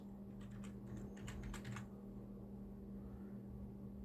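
Fast keyboard typing, a brief burst of keystroke clicks in the first two seconds over a steady electrical hum that continues alone afterward.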